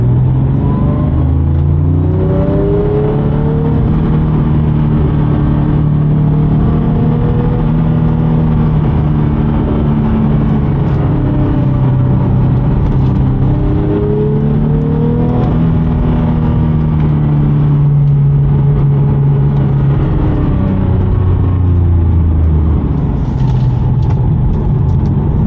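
A Porsche 911 Speedster with sport chassis mode and sport exhaust engaged accelerates hard, its engine note climbing and falling through repeated rising sweeps as it runs up through the gears, loud and close for the full stretch.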